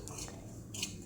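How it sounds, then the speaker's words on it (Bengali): A metal spoon scraping and clinking in a pan while semolina is fried and stirred in ghee, with two or three quiet, sharp clinks over a soft background hush. "ঘি দিয়ে সুজিটা ভাজছি"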